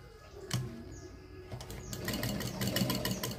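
Sewing machine running to stitch a fold on a lining blouse, a steady mechanical whir that starts, pauses briefly, then continues louder and fuller toward the end, close and alone with no talk.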